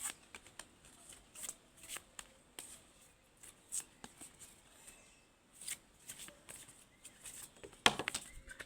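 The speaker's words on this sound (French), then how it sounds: "Donc je vais tirer une petite carte." A deck of Spanish playing cards is shuffled close by in quiet bursts, crisp riffling flutters and soft slaps repeating at irregular intervals, with a sharper flurry near the end.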